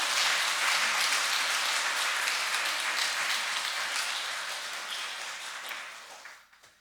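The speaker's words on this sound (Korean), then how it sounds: "우리 크게 한번 박수함으로" A church congregation's sustained applause welcoming a missionary visiting from Cambodia, loud broad clapping that holds steady for several seconds before gradually thinning and fading out at the end.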